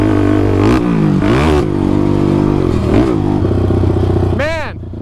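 A built Honda TRX450R ATV engine revs and climbs in pitch while being ridden on the ground, loud and close, with throttle swells and a final rising rev before it cuts off.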